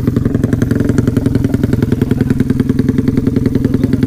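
A Yamaha Sniper 150 motorcycle arrives at an endurance ride event in Bicol, its engine close and loud with a rapid, even pulsing throb throughout, no voices over it.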